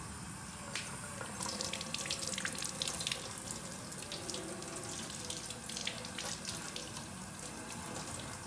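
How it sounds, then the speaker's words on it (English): Hands being washed under a running water tap, a steady close gush of water into a sink with small splashes and shifts as the hands move through the stream, no talk. "after you pray, you have to wash your hands like I am"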